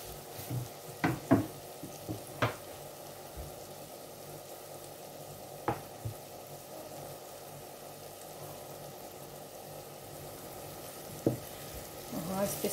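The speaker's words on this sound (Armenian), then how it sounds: "և այսպես մի փոքր կտապակենք մեր տոմատը" Tomato sizzling softly in a pan over low heat, a steady faint frying hiss with a few sharp clinks or stirring knocks scattered throughout.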